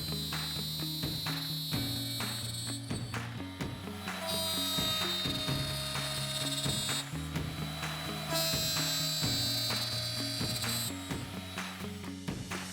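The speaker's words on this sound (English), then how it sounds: "I'm going to route all 8 of those mortises" Router cutting eight mortises in wood for a sofa table, a steady loud high-pitched whine running continuously with slight shifts in pitch as the bit plunges and moves, with no talking.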